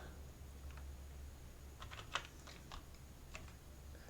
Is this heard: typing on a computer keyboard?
yes